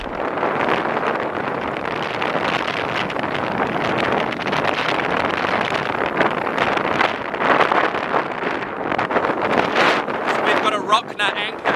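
High wind buffets a sailboat at anchor off Lanzarote in the Canary Islands, a loud, continuous roar and rumble with gusty swells, and a voice speaks beneath it.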